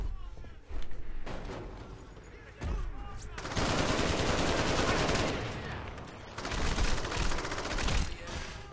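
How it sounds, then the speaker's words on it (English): Street gunfight in the video game Crackdown: sustained bursts of rapid automatic gunfire, loud and dense, interrupted by brief lulls before erupting again. "it's the random gunfights in the street"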